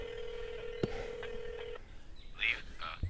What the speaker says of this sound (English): Dialing Thomas Gable.